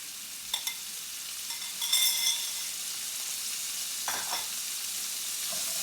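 Guanciale crisps in olive oil in a preheated skillet over medium heat, giving a steady soft sizzle with a few light clicks of stirring utensils.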